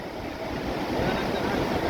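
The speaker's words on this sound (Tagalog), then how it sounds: "Hindi na nawawala ang alon dito." Sea waves at Aparri, Cagayan, a steady broadband wash of surf rolling continuously with some wind noise on the microphone, moderately loud and close, with no clear pauses between breakers.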